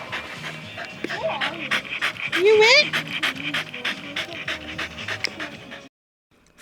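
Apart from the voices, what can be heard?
small dog panting after swimming in the pool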